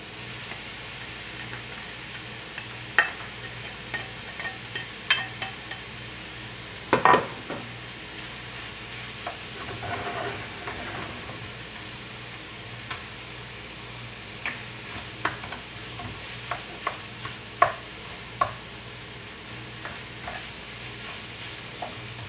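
Milkfish frying in a pan for bangus sisig, a steady low sizzle with scattered pops and spatters and occasional louder crackles, close up with no talking.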